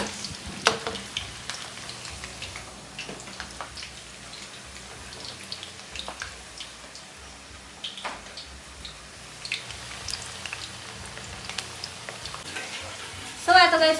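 Potatoes frying in a pan give a steady soft sizzle with scattered pops and crackles throughout, nearby and moderately loud, with no talking over it.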